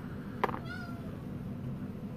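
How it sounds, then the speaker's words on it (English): A house cat gives a short, fairly faint meow near the start, followed by a drawn-out wavering cry over steady background hum. "Kitty!"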